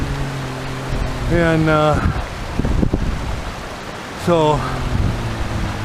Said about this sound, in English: you can hear, you know, the creek running